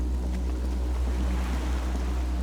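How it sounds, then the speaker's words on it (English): Water laps gently against a skiff moored by a dock in Disco Elysium, a low steady wash with soft wind and faint creaks, continuous and calm. "The skiff is swaying on the waves by the dock."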